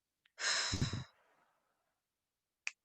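A single deep, breathy exhale during a guided breathing exercise, close and soft, followed by quiet and a faint short breath sound near the end.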